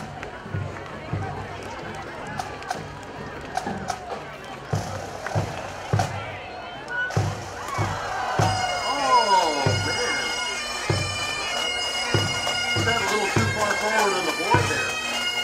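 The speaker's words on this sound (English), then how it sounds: "The pipe and drum band made up of firefighters" A firefighters' pipe and drum band in a street parade: marching drums beat a steady rhythm outdoors, then bagpipes join with bright sustained droning notes over the percussion and background crowd noise.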